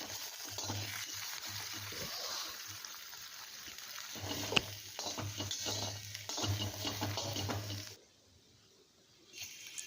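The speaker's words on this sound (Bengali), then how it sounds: "এবার আমি একটা ডিমেরও ঝুরি ভাজা করে তুলে নেব।" Egg being scrambled and fried in a pan for sabudana khichdi, a soft sizzle with stirring and scraping clatter running steadily for about eight seconds, then the frying drops away to quiet.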